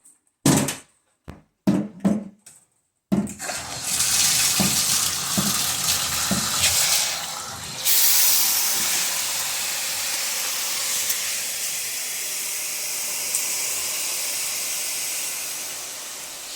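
Water sprays steadily from an old shower head with a broken mode switch, a loud, broad hiss running unbroken for several seconds after a few sharp knocks and clicks at the start.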